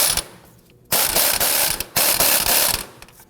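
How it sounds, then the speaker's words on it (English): An impact gun loosens an 18mm nut on a sway bar end link of a 2001-2009 Volvo S60, giving three loud rattling hammering bursts, each lasting about a second, close and with no talk. "We're going to use our gun here to go ahead and loosen and remove that nut."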